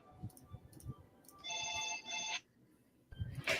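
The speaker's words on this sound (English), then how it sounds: "there's the phone ringing." A telephone rings in two bursts of bright electronic trilling, the first longer and steadier, the second starting just at the end, set apart by quiet room noise and faint movement.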